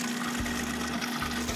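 Liquid poured steadily while blending homemade mayonnaise on a farm, a loud continuous gushing, whirring wash with a low motor-like hum underneath and no voices.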